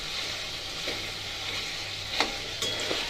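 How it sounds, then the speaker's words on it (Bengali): Chicken frying with capsicum, tomato and onion for chilli chicken, a steady close sizzle with a few sharper stirring knocks near the end, no talk. "এখানে চাউমিন, মানে চিকেনটাকে ফ্রাই করা হচ্ছে ক্যাপসিকাম, টমেটো আর পেঁয়াজ দিয়ে"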